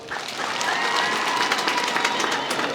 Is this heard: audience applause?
yes